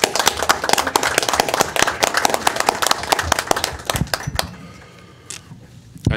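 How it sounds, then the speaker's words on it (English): Applause breaks out in a board of education meeting room, a dense run of claps that holds steady for about four seconds, then thins to a few scattered claps and quiet before a final burst. "we'll give you another round of applause."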